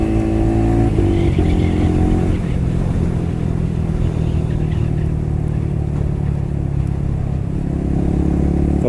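A Yamaha R15 motorcycle with an electric throttle runs loud and close, its engine note stepping and shifting as gears are swapped repeatedly, with brief revs over a constant mechanical drone.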